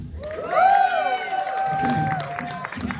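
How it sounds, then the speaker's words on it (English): A stand-up comedy audience at a theater applauds and cheers loudly for parents in the crowd, a sustained burst of clapping and whoops with a shouted voice rising over it. "The same people like clapped way harder for being a parent than being with the person"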